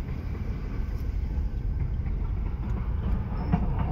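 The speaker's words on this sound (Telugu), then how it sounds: "అక్కడికి వెళ్ళేది ఇది గూడ్స్ ట్రైన్. ప్యాసింజర్ ట్రైన్ అయితే కాదు," A goods train rumbles past near Vasco da Gama station, a loud, steady low roar of wagons rolling by with faint rhythmic rail clatter and no voices.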